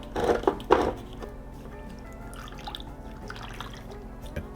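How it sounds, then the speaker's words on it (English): Evaporated milk from a can pours into pumpkin pie filling in a bowl, a brief liquid glug and splash near the start, followed by quieter kitchen background. "Add my can of evaporated milk."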